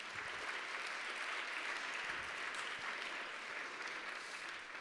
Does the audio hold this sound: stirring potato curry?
no